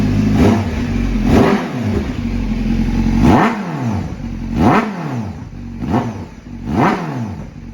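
A 2021 Honda CBR1000RR-R SP Fireblade with a gutted exhaust revs repeatedly, about six sharp throttle blips rising and falling over a steady idle, close and loud with no voices.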